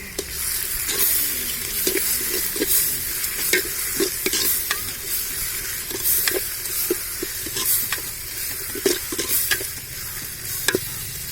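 Steady sizzling of ginger-garlic paste in a hot pan for kadai chicken on a beach, with repeated scraping stirs of a spatula at an uneven rhythm, close up and without speech.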